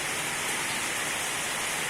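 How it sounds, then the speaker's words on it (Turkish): Heavy, steady rain drumming on a sheet metal barn roof, a dense continuous hiss that fills the space evenly with no pauses and no voices. "Saca sürekli yağmur yağdığı için şiddetli bir şekilde"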